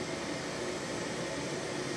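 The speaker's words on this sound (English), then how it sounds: "we're gonna play white noise through this loudspeaker" A steady, even hiss of white noise played through a loudspeaker fills the space without a break, loud and uniform with no other sounds.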